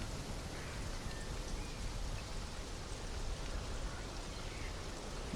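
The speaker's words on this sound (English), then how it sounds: "since it's always raining here" Steady jungle rain in the game Conan Exiles, a soft, even hiss of falling drops that stays constant and fairly quiet with no voices.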